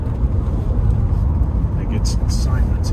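A 1983 Mercedes 380SEC driving over a rough road, heard from inside the cabin as a low, steady rumble of tires and engine without rattles, with a few faint higher squeaks near the end.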